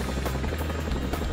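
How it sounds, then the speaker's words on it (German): A Chinook tandem-rotor US military helicopter fills the short clip with a loud, continuous throbbing rotor roar and engine drone, close and unbroken throughout. "Die Chinook ist der schnellste Hubschrauber des US-Militärs."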